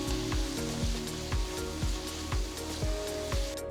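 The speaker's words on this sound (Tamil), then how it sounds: "பொடுசா நறுக்கின 2 பெரிய வெங்காயம் சேர்த்து நல்லா வதக்குங்க." Two large chopped onions sizzle steadily in hot oil in a kadai, a constant crackling hiss with a soft thudding pulse repeating underneath; no one speaks.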